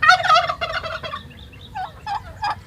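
A turkey gobbles loudly up close among other turkeys, a rapid rattling burst followed by a few shorter gobbles.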